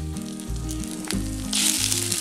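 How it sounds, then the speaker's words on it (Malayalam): Onion, dried chilli, coriander and fenugreek frying in coconut oil in a clay cooking pot, a continuous close sizzle that swells louder near the end, with low background hum and no talking. "ഇതെല്ലാം ഒന്ന് വറുത്തെടുക്കണം."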